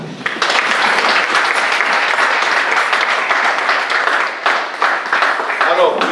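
A church congregation applauds and cheers loudly after a call to acclaim the word during a sermon, a dense, steady roar of clapping lasting several seconds, with voices mixed in.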